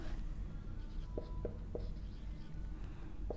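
Chalk or marker on a classroom board during a geometry lesson on congruent sides, several brief soft strokes in a loose rhythm over steady room noise.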